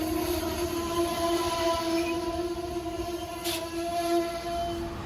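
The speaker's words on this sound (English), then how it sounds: "my train came in right after the other one did" An Amtrak Northeast Regional passenger train rolls into Alexandria station, a steady loud rumble of railcars with sustained tonal wheel and brake squeal lines and a brief hiss midway, no voices.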